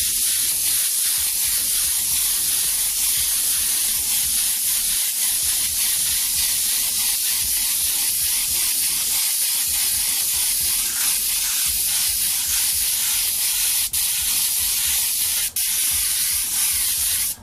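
Airbrush spraying paint, a steady continuous hiss of air and paint mist that runs unbroken throughout at close range, with only faint low rumbles underneath.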